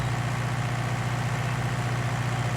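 A tractor pulling a power harrow in Farming Simulator 19 drones with a steady, loud, low engine hum that holds constant throughout, with no talk over it.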